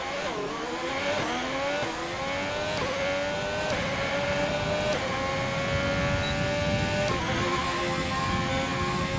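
A Formula 1 race car engine in the F1 2020 video game runs a hot lap on soft tyres, a loud, steady high-pitched whine that climbs through each gear with sharp shift breaks every second or two.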